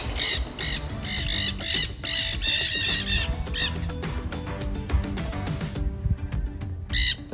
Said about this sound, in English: look at that parrot. See the parrot? Those green parrots?